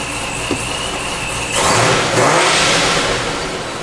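A Procharger-supercharged car with a Corsa full exhaust idles with a whine, then blips into a short, loud rev that swells and tails off, heard close by.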